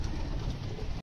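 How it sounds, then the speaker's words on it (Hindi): Pigeons cooing on a rooftop in the evening, a short low murmur of coos close by, with no talking. "अपने सारे कबूतरों को ओपन कर देते हैं।"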